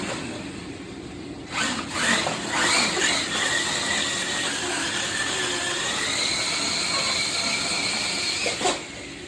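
A Bigfoot radio-controlled monster truck on a test run after a front axle repair gives off a whirring, gear-driven electric whine that rises and falls in pitch, with sharper bursts at the start and near the end.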